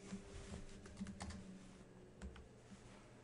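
Close, quiet keystrokes on a computer keyboard, a short run of clicks at an uneven pace with a few louder taps, in a room with faint background hum.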